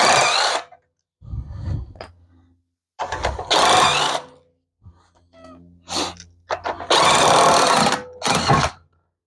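An impact wrench rattles off wheel nuts in several loud, separate bursts of hammering buzz, with short quiet gaps and softer handling noises between them.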